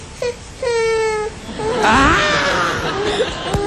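A voice mimics a small child's coaxing, whining cry: drawn-out wavering wails and whimpers rising and falling, close and fairly loud, alone without other talk.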